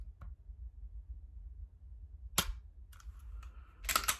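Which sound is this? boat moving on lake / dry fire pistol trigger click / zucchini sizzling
dry fire pistol trigger click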